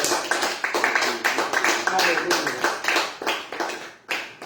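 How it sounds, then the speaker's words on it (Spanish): Rhythmic group clapping at a church service fills the room, steady and energetic, while a voice calls out over it. "Dale un aplauso al Señor."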